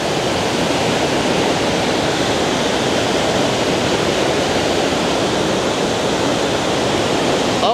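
A strong current of water rushes over a dam at Sta. Rita, Lubao, Pampanga, a loud, dense, continuous broadband roar that stays steady throughout with no pauses.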